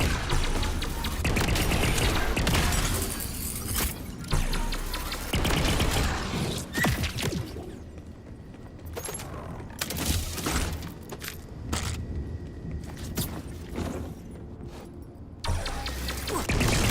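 Gunfire in the game Borderlands 4 tears into Ripper orbs, with dense rapid shots, sharp impacts and shattering crashes, loud at first and then broken into choppier bursts.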